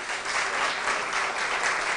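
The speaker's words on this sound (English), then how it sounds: "And we have our winner, St. Peter's, with 85 points. A round of applause." Steady audience applause at a school quiz competition as the winning team, St. Peter's, is announced; a continuous wash of many hands clapping, even and moderately loud throughout.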